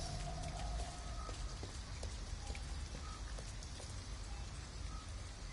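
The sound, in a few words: rain falling, from the video game Detroit: Become Human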